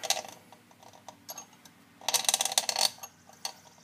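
A thread repair tap cuts threads in a Stihl MS 260 chainsaw, producing quiet ratcheting clicks and scraping with a louder grinding stretch midway.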